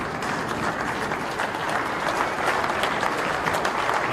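An audience at the 2021 Motorcycle Cannonball awards ceremony applauds, a dense and loud wall of clapping that holds steady without a break through the whole stretch.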